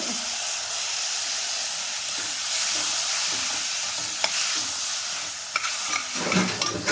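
Tomatoes drop into a pan of frying onions and green peas for a kurma, a loud continuous sizzle and hiss close by, broken near the end by a few stirring knocks.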